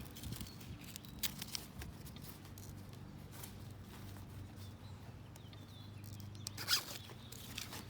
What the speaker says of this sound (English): so you just unloose that Velcro roll